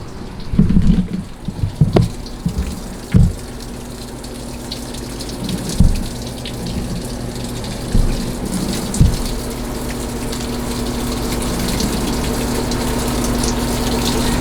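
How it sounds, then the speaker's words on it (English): A washing machine filling with water and then draining on spin, with a steady pump hum and rushing water under a few clunks and thumps, the flow growing louder and continuous toward the end. "So I might let it actually just fill up a little bit, turn it off, and then just hit spin so it'll all drain out"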